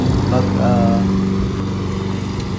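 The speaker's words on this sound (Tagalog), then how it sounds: "tayo naman na mag-lawnmower" Lawn mower cutting grass on rocky ground, its engine droning steadily at mid distance while someone talks over it.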